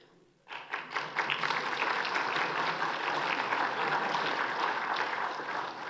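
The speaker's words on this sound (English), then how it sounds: "Any applause, I have to say, is for Andy" An audience at a morning lecture session breaks into sustained applause after a speaker is introduced, the clapping starting abruptly and holding steady and full before easing slightly at the end.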